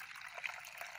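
Water trickles and swishes softly in a bowl as soaked lentils and beans are rinsed, a brief, faint wet sloshing heard alone.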